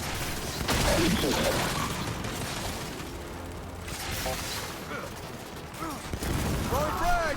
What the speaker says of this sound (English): We're pinned down! We can't deal with those turrets!